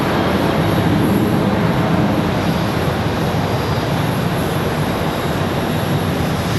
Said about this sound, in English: There goes that A319 we saw a minute ago,